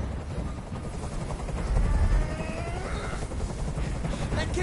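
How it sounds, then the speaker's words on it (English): Helicopter in the game Detroit: Become Human, a continuous rotor thump and engine whine hovering nearby, steady and loud, swelling slightly midway, with faint speech underneath. "Tell that helicopter to get out of here."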